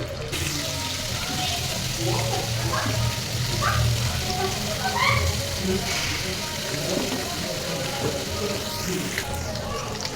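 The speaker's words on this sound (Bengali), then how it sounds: "একটু লবণ দিব আর সামান্য পরিমাণ হলুদ দিব দিয়ে এটা মচমচে করে ভেজে নেব" Mung dal with salt and turmeric fries until crisp for shrimp fritters, giving a steady, close, watery sizzle throughout, with a voice speaking now and then over it.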